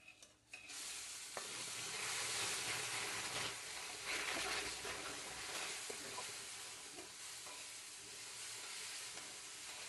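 Semolina being stirred as hot milk and water are poured in for a ghee semolina sheera, a bubbling, sizzling hiss with scraping stirs and a few soft clinks, steady and close.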